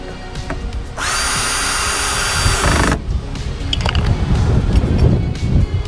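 A power drill drives door knob screws back into a door during a knob replacement, giving one steady, close whir for about two seconds before it stops, followed by quieter handling noise.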